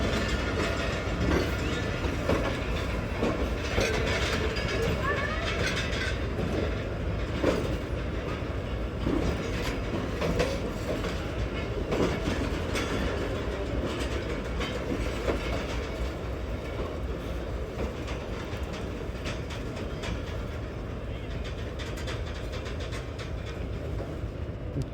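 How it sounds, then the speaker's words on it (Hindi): Hazara Express 12 Down pulling away from Rawalpindi railway station after a brief halt, with a steady, loud rumble of wheels and couplings clanking and ratcheting throughout, continuous and close. "2-4-5 सेकंड रुकने के बाद दोबारा से मूव होना स्टार्ट हो गई है 12 डाउन हज़ारा एक्सप्रेस"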